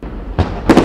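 New Year's fireworks burst in quick succession, two or three sharp, loud explosions close together over a crackling background.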